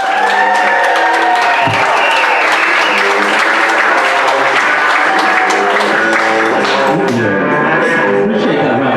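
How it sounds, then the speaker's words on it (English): Loud, sustained audience applause and cheering at a live comedy club show welcome a comedian to the stage, the crowd noise filling the room continuously. "Appreciate that round of applause."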